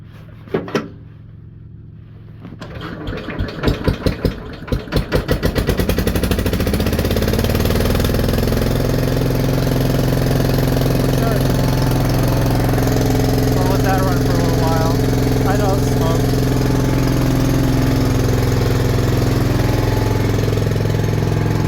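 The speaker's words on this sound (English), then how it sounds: "Gotta turn the fuel on and turn a choke on and give it a little throttle," Old tractor engine being started with fuel on, choke set and a little throttle: a few cranking chugs catch, then the engine settles into a steady, loud, close-up running rumble that continues to the end.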